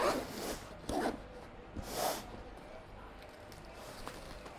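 Zipper on a DJI Avata 360 carrying bag pulled open in three or four short, raspy close strokes, the first the loudest, followed by quieter rustling of the bag.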